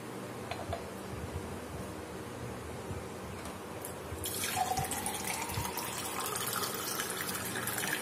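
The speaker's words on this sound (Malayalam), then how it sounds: "അപ്പൊ ഇതൊരു ഗ്ലാസ്സിലേക്ക് ഒഴിക്കാം." Carrot-flavoured lime juice is poured into a glass, a steady liquid gush that begins midway after quieter room noise and keeps flowing to the end.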